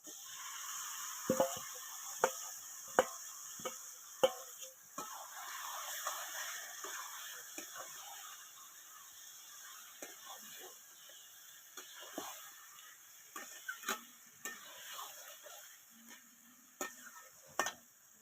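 Chicken pieces going into spices already fried in a pan for Bengali chicken kosha, with a soft sizzle, intermittent sharp clanks of a spatula against the pan, and steady stirring scrapes at close range.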